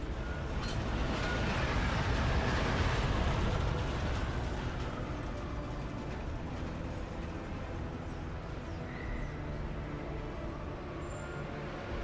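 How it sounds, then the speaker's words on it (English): A train arrives at a station in Deus Ex: Mankind Divided, a loud broadband rumble and roar that swells early and then settles into a steady mechanical drone with a faint tonal whine. "Just getting off the train now."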